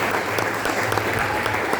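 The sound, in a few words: church congregation applause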